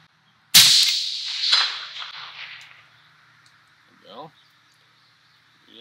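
A single sharp rifle shot cracks loudly from a tripod-mounted gun, followed by a long echoing decay across open terrain, with a faint second report and distant bird chirps afterward.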